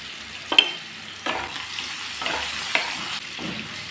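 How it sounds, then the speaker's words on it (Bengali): Paneer pieces frying in a pan with turmeric and salt, a steady close sizzle broken by several sharp scraping stirs and spatula knocks. "পনিরগুলো এখন আমি ভেজে নিচ্ছি"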